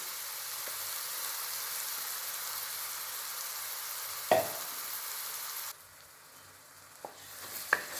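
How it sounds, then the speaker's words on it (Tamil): A paste of onion, cashew, garlic and green chili sautéing in a pan for green peas masala, giving a steady loud hiss of frying with a single spatula knock midway before the sizzle drops quieter. "இந்த விழுதை போட்டு நல்லா வதக்கிடணும்"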